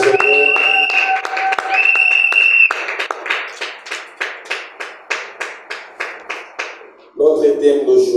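A church congregation claps together in a steady, even rhythm, about a dozen sharp claps echoing through the hall after a stretch of organ-like sustained tones, before singing or music starts again.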